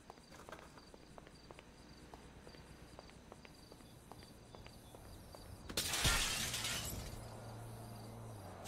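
Glass breaking and smashing in the GTA 5 video game, set over steady background hum and light ticking steps, with one loud crash about two-thirds through that trails off over the next second.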